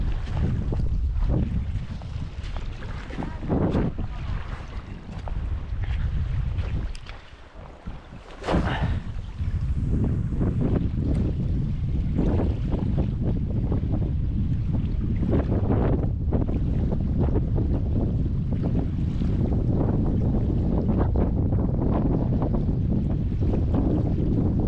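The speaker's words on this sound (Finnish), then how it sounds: "Kyllä on järkyttävää tuuli täällä." Strong wind buffets the microphone in a constant roaring rumble, briefly easing for a moment before gusting back hard and loud.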